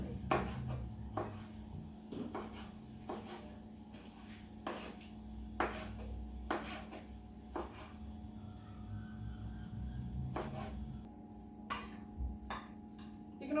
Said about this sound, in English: We're going to cut them in half